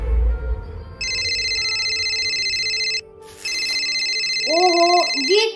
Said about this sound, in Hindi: ओहो ये तान्या का फोन क्यों आ रहा है?